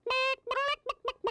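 A woman imitates a chicken with her voice, giving five loud, close clucks: two drawn-out squawks followed by three short, quick ones.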